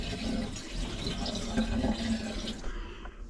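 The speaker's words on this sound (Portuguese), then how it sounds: "Conforme a gente vai pondo água na tubulação, ela tá descendo para a caixa servida de uma forma assim bem lisa." Water poured into motorhome plumbing and draining smoothly toward the grey water tank, a steady close rushing trickle that cuts off near the end.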